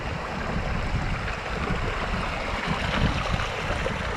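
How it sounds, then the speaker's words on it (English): A mellow meandering creek flows among rocks beside a campsite, a steady broadband wash of running water, close and continuous, with no voices. "it's just like a mellow, meandering creek"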